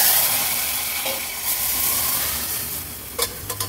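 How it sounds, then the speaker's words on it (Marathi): Mashed cooked dal goes into a hot ghee tempering, giving a broad steady sizzling hiss close by, with a few sharp clicks and spatters near the end and no voices. "ही घोटून घेतलेली डाळ आता आपण फोडणीला घालूया।"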